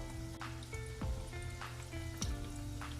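Apple fritter dough frying in oil on a stove set to medium heat: a steady, close sizzle runs throughout, with a few brighter crackling bursts and faint steady tones underneath.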